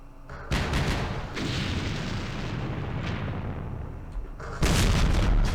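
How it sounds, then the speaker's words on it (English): Mortar fire in the Vietnam War strategy game Campaign Series Vietnam, heard as a loud, sustained rumbling roar of explosions that swells abruptly at the start and again near the end. "Our mortars coming in for the kill."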